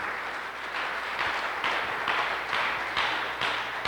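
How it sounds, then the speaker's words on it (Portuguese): A church congregation clapping together, a dense wash of applause with a roughly regular beat, moderately loud and continuous with no voices on top. "Aplauda o Senhor."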